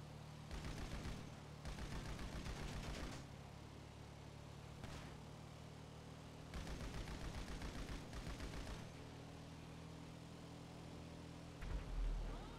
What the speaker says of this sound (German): Nur das Maschinengewehr.